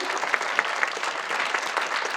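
Audience applause fills a conference hall featuring the French voice cast of The Lord of the Rings, a steady wash of many hands with a few sharper claps standing out, loud and close throughout.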